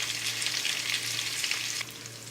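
Butter sizzles and fries steadily in a kadai for Peshawar chicken, a close, continuous crackling hiss with a faint low hum beneath that drops in level near the end.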